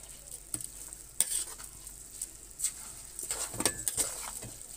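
Vegetables for stuffed cabbage sizzle gently in a hot pan while a utensil stirs them, with soft frying crackle and scraping strokes coming in short bursts.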